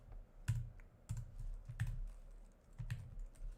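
Quick bursts of clicking keys on a computer keyboard, irregular typing strokes coming in small clusters at close range in a quiet room.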